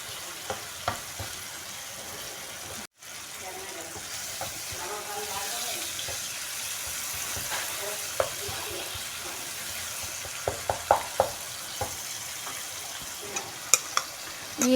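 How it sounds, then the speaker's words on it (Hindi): Masala frying and being stirred in a pan, a continuous soft sizzle with scraping strokes of the spoon and a few sharper clinks toward the end, close up, with faint talk underneath. "तो मैं इस मसाले को भून रही हूँ।"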